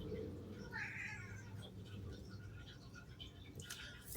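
A cat meows with a drawn-out call near the start, followed by quieter rustling and faint background voice sounds.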